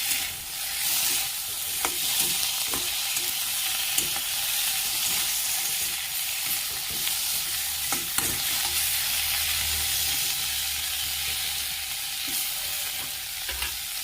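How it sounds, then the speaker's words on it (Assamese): Onions and tomatoes frying in a pan over medium gas, a loud, continuous hissing sizzle with occasional stirring clicks, close and steady with no talk. "এনেকৈ অলপ সময় ভাজিব লাগিব।"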